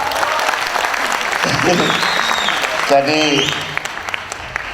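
A crowd applauds musicians at a cultural gathering honouring Gus Dur in Cairo. The steady, dense clapping fills the room, and a voice speaks briefly near the end.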